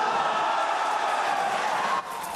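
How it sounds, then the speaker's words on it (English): Dense, steady crowd roar and cheering at a SpaceX facility as a private spacewalker leaves the hatch, loud and continuous before dropping slightly near the end. "And the crowd goes wild."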